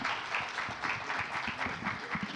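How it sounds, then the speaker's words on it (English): Audience at a panel session in Algiers applauding warmly, a steady, even patter of many hands at moderate distance. "please give this panel a round of very warm applause"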